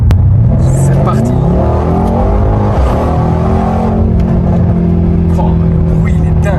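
A Mercedes-AMG C63 S in sport mode accelerating hard, its engine note rising loud and continuous with a deep roaring rumble heard from inside the car.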